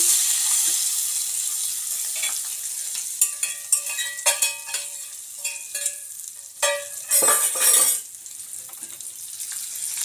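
Sizzling from hot tempering hitting a gongura chutney, with light clinks and stirring scrapes, the crackle swelling in bursts toward the end.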